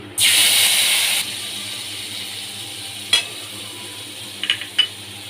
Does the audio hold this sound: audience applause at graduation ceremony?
no